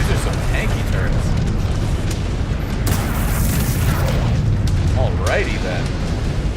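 Mech weapons in MechWarrior 5 Clans pound tough enemy turrets with loud continuous booms and explosions. Heavy rumbling blasts fill the whole stretch, and other game effects flicker over them.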